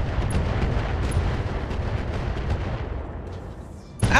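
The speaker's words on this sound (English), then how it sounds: "Shooting at that turret too?" Heavy weapons fire from battle mechs pounding a turret in Battletech Roguetech, a continuous rumbling barrage of booms and blasts with a sharp louder impact at the end.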